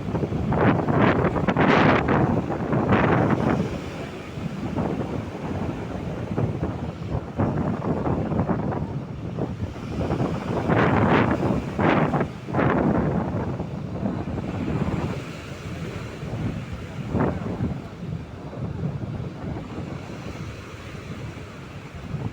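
Strong wind buffeting the microphone with rolling waves crashing at a river mouth where fishermen come in, a constant loud roar with surging bursts of surf and no voices.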